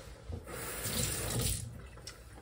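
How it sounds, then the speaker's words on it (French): Running tap water splashes over a knife blade coated in carrot peelings as it is rinsed at a kitchen sink, a steady close hiss and splatter rising and easing over a couple of seconds. "Je vais juste rincer ma lame parce qu'elle est pleine de pelures."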